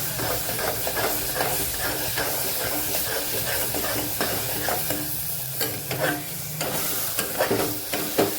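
Carrot halwa with ghee is stirred in a pan, a scraping and bubbling sizzle with steady hiss and repeated spoon strokes in a loose rhythm, close and continuous.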